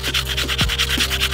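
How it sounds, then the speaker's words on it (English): Painted aluminum wheel being sanded by hand with 220-grit sandpaper: a steady, close rasping rub punctuated by several rhythmic strokes with low thumps, with no talking. "we just sanded the wheel with the 220"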